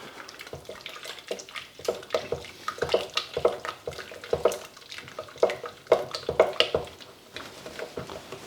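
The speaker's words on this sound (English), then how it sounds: "It's really important to keep stirring the bottom of the saucepan to make sure that the sauce is not burning." Béchamel sauce is stirred in a saucepan, with a steady rhythm of soft wet scrapes and sloshing strokes repeating about once or twice a second, close and moderately quiet, with no talk.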